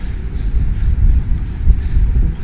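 Steady outdoor wind buffeting the microphone on a warm, windy day along a Nebraska race course, a continuous low rumbling roar with gusty swells and no talking.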